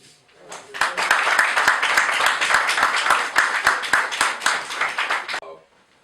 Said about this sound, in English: we ought to give him another round of applause